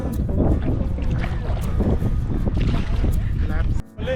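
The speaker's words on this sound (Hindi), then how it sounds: "ये हमारी बोट यहाँ पे दूसरे जंक्शन पे आते हुए" A passenger boat crossing the sea near Janjira Fort off the Indian coast. A loud, rumbling engine and wash mix with gusting wind noise, and people's voices talk over it throughout.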